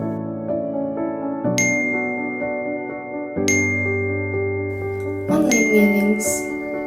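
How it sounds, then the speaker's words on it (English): Layered, ringing chime tones of phone notification dings stack and overlap in several distinct strikes, bright and close, each sustaining before the next arrives. "You wake up to notifications."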